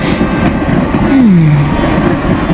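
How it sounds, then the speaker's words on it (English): A train in Cookie Run Kingdom rushes loudly along the rails with a dense, continuous rumble and a brief rising-then-falling squeal midway, alone without voices. "The same train rushing towards the holidays."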